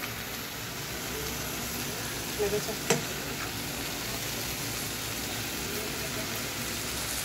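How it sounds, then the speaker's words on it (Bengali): Spinach and diced eggplant fry in a pan with a steady, even sizzle throughout, broken by a brief clatter of stirring near the middle. "রান্না করছি পালং শাক"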